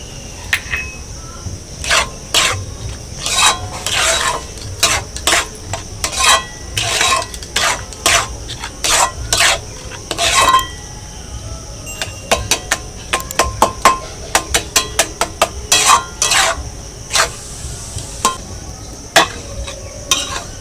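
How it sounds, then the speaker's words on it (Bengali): A spoon scrapes and clacks repeatedly against a metal wok, stirring semolina in irregular bursts that quicken toward the end, with a faint background hum. "এবারে কড়াইটা উনুনে বসিয়ে সুজিটা নেড়ে নেড়ে খুব শক্ত করে নেব।"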